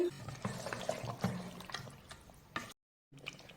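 Water poured into a pan of goat head masala curry, a light splashing pour with scattered liquid sounds, fairly faint and close, ending in a brief silence.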